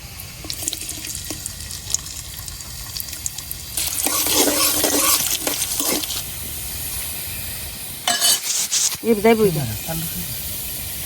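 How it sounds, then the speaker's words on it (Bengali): Chopped garlic and whole cumin seeds frying in hot oil in a wok, with a steady hiss that swells as the pieces are stirred. Brief scraping follows, and a voice speaks near the end. "রসুনটা ভাজা হয়ে গেছে।"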